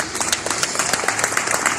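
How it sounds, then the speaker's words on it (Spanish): Congregation clapping during a Thursday evening church worship service, a short patter of applause with scattered hand claps over a murmuring crowd and voices. "¿Qué tal si tú le das un aplauso a nuestro Dios?"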